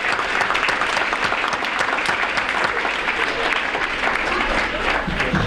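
An audience at a 2018 school fall sports awards night gives a sustained round of applause, a thick, even wash of clapping that holds at a steady level throughout.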